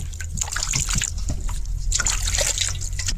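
Water poured into a pot or bowl while preparing a potato pitha batter, a close, steady trickling and sloshing stream with small splashes, no talking.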